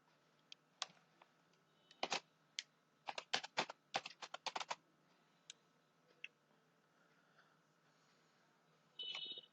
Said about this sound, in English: After selecting the cell, we can type any data.